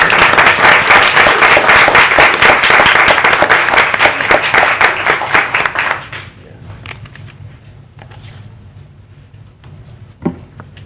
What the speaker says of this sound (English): Now, Olive, if you want to clap, I'll help you this time.